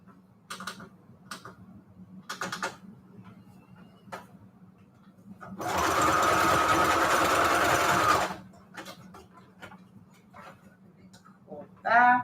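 A sewing machine runs a zigzag stitch on flash cards in one steady burst of about three seconds, loud and close, with quiet clicks and handling sounds before and after.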